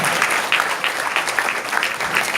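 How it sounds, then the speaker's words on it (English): An audience at a sales seminar applauds, a dense, even wash of many hands clapping at once, fairly close, with no break. "So go ahead and give Billy a round of applause"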